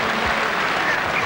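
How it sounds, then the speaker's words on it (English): Steady applause from a large rugby stadium crowd at the 1987 Rugby World Cup quarter-final, New Zealand v Scotland, a dense wash of clapping that holds at an even level throughout. "And the applause, I think, is for New Zealand footing."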